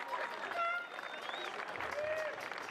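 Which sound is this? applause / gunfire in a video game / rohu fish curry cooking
applause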